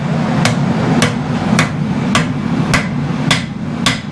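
A smith hammers a blade flat while forging a knife, seven loud, evenly spaced metallic strikes roughly half a second apart over a steady roar of the forge.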